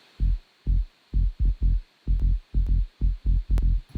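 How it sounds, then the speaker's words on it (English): Electronic dance track in production with a long, booming kick drum and bass line pulsing together in a steady, near-regular rhythm of about ten deep, sustained hits, loud and dry with no voices. "So I've got the kick longer with the bass playing different like this."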